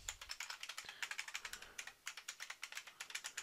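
Fast, even typing on a computer keyboard, a close run of crisp key clicks in an irregular rhythm with brief pauses, no talking.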